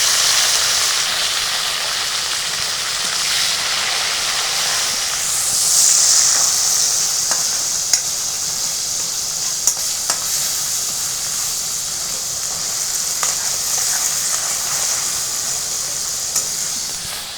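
Tomatoes added to golden fried onions sizzling in a pan for a simple chicken gravy, a steady loud hissing sizzle with faint stirring clicks throughout and no talk.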